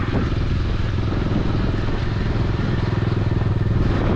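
Motorcycle riding on a badly damaged, wet road, its engine a loud, close, steady throbbing drone with a rattling clatter underneath, continuous throughout without talking.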